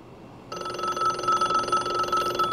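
Telephones wired directly to the line, bypassing a first-ring-suppression interface, begin ringing abruptly after a short quiet lead-in and keep up a loud, warbling electronic ring to the end.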